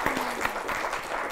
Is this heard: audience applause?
yes